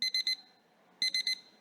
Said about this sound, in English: And when your time's up, you will hear the reminder ringtone.